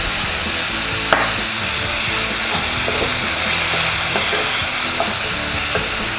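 Tomatoes sautéing with a little salt in a pan for a hotel-style vegetable kurma, a steady close sizzle and fry with stirring scrapes and a few sharp clinks, no talking.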